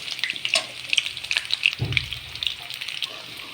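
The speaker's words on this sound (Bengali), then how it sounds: "এইভাবে এক পাশ ভেজে নেবো আর মিডিয়াম টু লো আছে ভেজে নেবো" Potato pieces fry in a pan over medium-low heat, giving a steady close sizzle with crackling pops and a brief low stir or clatter partway through, with no talking.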